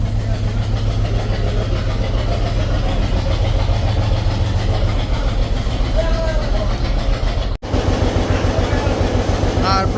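The MV Karnafuli-3 launch runs on two 750 horsepower eight-cylinder engines, giving a loud, steady low droning rumble with a constant hum, briefly cut near the end, while a voice talks over it.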